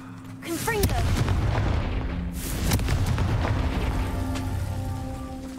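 A Confringo fire spell blasts in Hogwarts Legacy, a loud booming explosion with a rumbling crackle that swells twice and lingers as a broad roar, with game ambience underneath.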